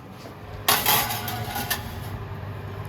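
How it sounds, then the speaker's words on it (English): Metal roasting pan holding a lamb roast slid into a kitchen oven, a sudden loud clatter of metal on oven racks followed by a couple of smaller knocks and a steady background hum. "And off into the oven it goes."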